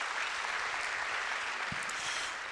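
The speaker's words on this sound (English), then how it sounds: "you can clap for that." Sustained audience clapping at a school convocation, a dense steady wash of applause running throughout without break, with a brief whoop partway through.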